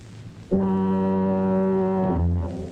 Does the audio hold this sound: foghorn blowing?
yes